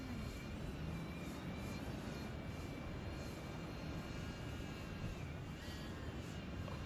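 A DJI Avata FPV drone gives a continuous high propeller whine at moderate distance, steady and unbroken, with no voices.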